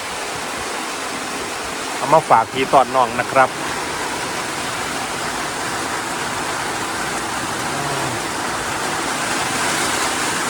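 Rain pouring beside a flowing stream at a rice farm, a loud, steady rushing hiss that never lets up, with someone speaking briefly over it early on.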